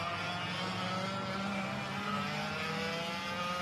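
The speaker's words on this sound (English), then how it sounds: "we're waiting for all the karts to get fired up here" Several racing karts idle and blip their engines together at a restart on the Sonoma kart track, a dense, steady buzzing drone held throughout at moderate distance with no voices.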